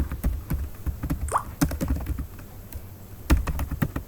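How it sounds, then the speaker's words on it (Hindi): Keys clatter on a computer keyboard in quick, uneven bursts while a name is typed into a form on a declaration and assets document, close and fairly quiet, with brief pauses between strokes. "चाइल्ड नेम हम लिख देते हैं जैनब,"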